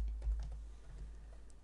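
Quiet, close computer keyboard typing of Korean characters using the Hanja key, a few soft key taps over a low background hum.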